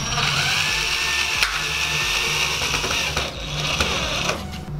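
A nut is fitted by power tool while building an automatic rotating globe at home, giving a continuous close whirring mechanical drone with brief ratcheting clicks and a short break near the middle.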